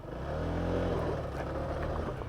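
A Honda PCX scooter engine runs on leaf-covered ground as its HSTC traction control cuts the throttle, giving a steady close engine drone that eases off slightly.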